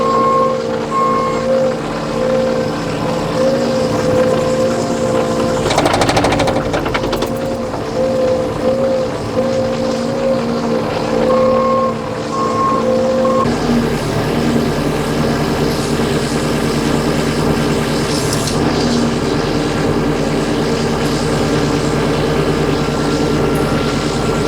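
A street sweeper truck's engine drones loudly and steadily while its brush spins, with intermittent electronic beeping tones over the machinery. The sound shifts partway through as the running changes.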